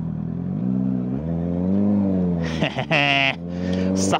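Honda CBR650R motorcycle riding on a freeway, its engine droning and climbing in pitch close by, followed by sharp revving bursts and wind rush near the end.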